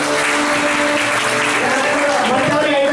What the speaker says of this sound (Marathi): एका श्रेयासाठी जोरदार टाळ्या वाजवा